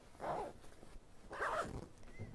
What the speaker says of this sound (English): it unzips from 2 zippers